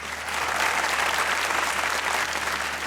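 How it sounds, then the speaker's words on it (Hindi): A studio audience on a comedy show applauds for a guest named Sunita, a dense, even burst of clapping held at a steady moderate level for a few seconds. "आप सुनीता के लिए ताली होनी चाहिए"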